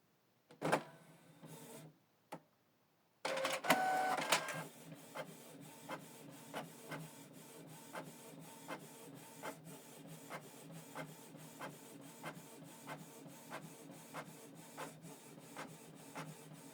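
A Canon PIXMA TS3450 inkjet printer prints a color page. A few clunks and a whirring startup give way to a long, regular series of soft ticking strokes as the print head shuttles back and forth up close.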